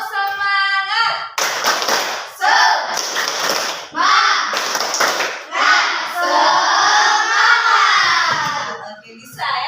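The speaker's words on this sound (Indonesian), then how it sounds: "Untuk lebih semangat, ayo kita tepuk semangat lagi ya" Schoolchildren in an Indonesian classroom do the tepuk semangat spirit clap, with rhythmic bursts of group clapping alternating with chanted voices, close and loud, and a teacher's voice at the start.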